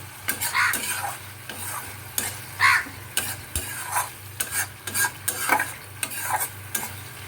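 Masala being stirred in a pan for a hot and sour tilapia fish curry, a spoon scraping in repeated strokes roughly every half second over a soft steady sizzle, close and fairly clear.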